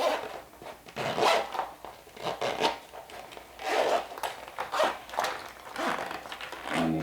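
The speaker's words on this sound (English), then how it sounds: "You might find it easier to open your zipper." A zipper on a garment being sewn is pulled open in a series of short rasping strokes, close up, with brief pauses between each pull.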